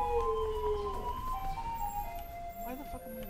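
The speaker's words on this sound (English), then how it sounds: "That's the garbage truck music." A melodic garbage truck tune plays in a street in Taiwan, a wavering sustained melody carried over low rumbling background noise, with voices faintly present.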